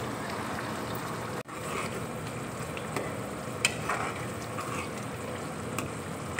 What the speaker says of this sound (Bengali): এবার দেখো গরম জল আমি একটু দিয়ে দিচ্ছি।